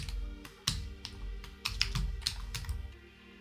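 Code is typed on a computer keyboard in quick, irregular bursts of clicking keys, close and fairly quiet, with a low steady hum underneath and no talking.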